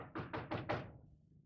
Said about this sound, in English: Wait a minute, someone's knocking.